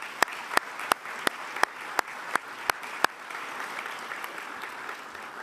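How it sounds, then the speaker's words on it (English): At a military promotion ceremony honoring distinguished guests, a handful of sharp, evenly spaced claps ring out nearby for about three seconds, then thin into faint scattered clapping. "So please join me in a warm round of applause for all of our distinguished guests."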